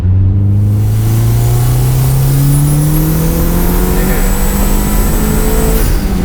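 A turbocharged $1500 DSM car pulls hard on boost in third gear, engine note rising steadily in pitch with a loud, close, strained roar that holds throughout the run.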